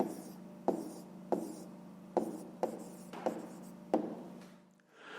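A pen writes an answer on paper in a quiet room, with a series of short scratchy strokes separated by brief pauses, close and fairly soft.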